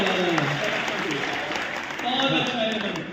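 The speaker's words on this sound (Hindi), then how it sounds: "ताली बजाइए पर हाथ ताली जोरदार।" A dense, steady wash of audience applause fills a hall at an all-India Hindi comedy poetry gathering at Ravindra Bhavan, holding strong throughout with voices faintly mixed in.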